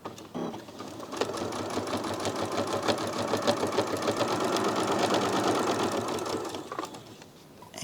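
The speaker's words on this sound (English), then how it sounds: "I'm just going to stitch by putting this tape on top of the join and keeping the foot next to the edge of the fabric" A sewing machine stitches tape over the join of quilt-as-you-go fabric blocks, producing a steady, rapid mechanical whir of needle strokes that runs close and continuous for several seconds before stopping.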